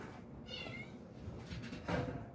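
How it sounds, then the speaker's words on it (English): A couple-month-old kitten gives one thin, rising meow up close, then quieter shuffling and a soft thump follow, all fairly faint, with no talking. "There's a kitten in here."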